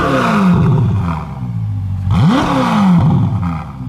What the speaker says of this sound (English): the Ferrari 488 has got an incredibly uninspiring exhaust note